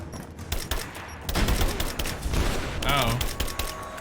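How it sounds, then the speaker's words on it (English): A grenade thrown and exploding in the Rise of the Tomb Raider video game, with loud rapid bursts and crackling blasts amid a chaotic gunfire-like barrage, then a ringing tone near the end. "Throwing a grenade."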